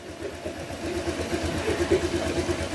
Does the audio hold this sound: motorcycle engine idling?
yes